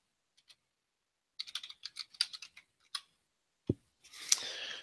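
Keys tapped on a computer keyboard while typing a search word into a new browser tab, a quick irregular run of close, crisp clicks followed by a brief thump and a short burst of rustling noise.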